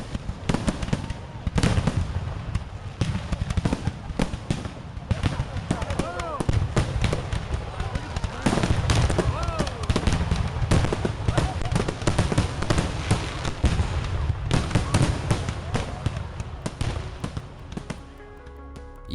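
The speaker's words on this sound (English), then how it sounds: "An errant mortar exploded, causing the other fireworks to go off at ground level." Fourth of July firework mortars go off at ground level in a rapid, crackling barrage of bangs and pops, dense and continuous for most of the stretch, with crowd noise beneath.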